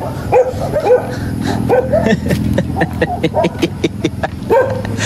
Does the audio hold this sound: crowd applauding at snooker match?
no